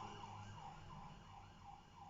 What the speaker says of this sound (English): I don't know if you hear that, but of course ambulance had to come over this time.